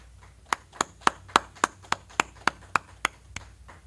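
A group at a brotherhood meeting claps in unison, about eleven sharp, evenly spaced claps in a steady rhythm that fade slightly at the end, with a quiet room behind.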